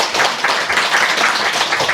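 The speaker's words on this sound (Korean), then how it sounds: "여러분 박수 한번 주세요" Steady clapping from a crowd at a lecture in Damyang, Korea, dense and even throughout, with no voices on top.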